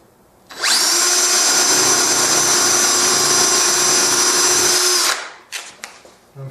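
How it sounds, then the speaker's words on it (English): A power drill pre-drills screw holes in wooden corner blocks of a cabinet case, running steadily and loudly for about four and a half seconds before stopping, followed by a few faint workshop knocks. "I'm just going to go ahead and pre-drill for some screws"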